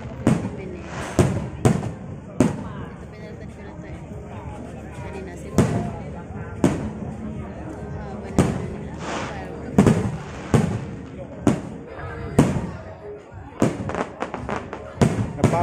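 Fireworks set off to celebrate 2,000 subscribers boom and crackle in a steady series of sharp bursts, some near and loud, others more distant, with faint voices between blasts.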